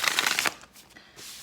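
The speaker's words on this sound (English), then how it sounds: "I don't like shuffling on hard tables." Tarot cards shuffled on a hard table, a quick run of crisp riffling clicks that stops abruptly, followed by faint rustling handling of the deck, close and fairly loud.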